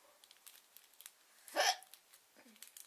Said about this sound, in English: And then there's that awkward hiccup.